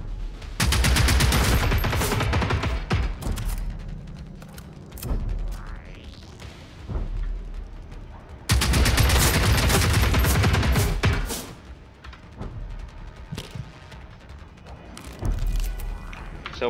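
Enemy gunfire in the video game Generation Zero: dense bursts of rapid shots and crashes, loud and close, coming in two heavy waves with quieter gaps and scattered single impacts between them.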